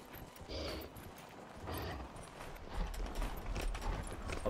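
Horse hooves in Dragon Age Inquisition: a steady, muffled clip-clop of a ridden horse that continues throughout at moderate level over a soft ambient wash.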